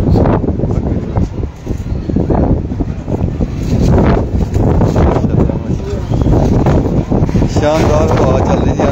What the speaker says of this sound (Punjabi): ਸ਼ਾਨਦਾਰ ਹਵਾ ਚੱਲ ਰਹੀ ਜੀ ਆਉਂਦੀ ਆ ਗਈ ਬੜੀ ਤੇਜ਼